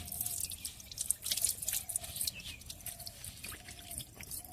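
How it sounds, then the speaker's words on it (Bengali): Freshly picked radishes are rinsed in water, with soft irregular drips and splashes close by over a faint background hiss. "এই ধোয়া হচ্ছে এখন।"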